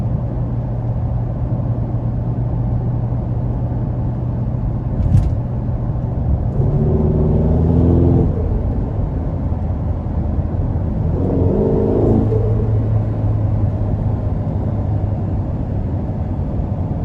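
A 2015 Ferrari California T cruising in comfort mode, its engine a steady low hum with road and wind noise throughout, swelling briefly in two smooth surges of revs midway.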